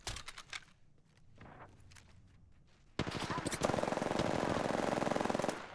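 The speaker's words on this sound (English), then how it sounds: "you're taking fire" Gunfire in the video game Apex Legends: scattered single shots and footsteps at first, then a sudden loud sustained burst of rapid automatic fire in close succession.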